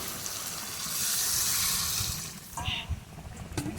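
A small splash of water poured into a simmering murli fish curry, a broad rushing pour that swells and fades over a couple of seconds, followed by soft pan clatter.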